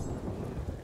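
A thunderstorm in the video game Sea of Thieves brings a deep, rolling thunder rumble with steady rain hiss, loud and continuous for under a second.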